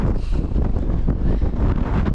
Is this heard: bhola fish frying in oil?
no